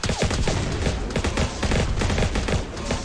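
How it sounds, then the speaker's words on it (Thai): Rapid overlapping bursts of missile and weapon fire from giant mechs in the Last Battleground Mech battle royale mobile game, a dense, loud, continuous barrage of blasts and impacts with no talk. "มันเริ่มยิงมิสไซล์แข่งกับเราละ"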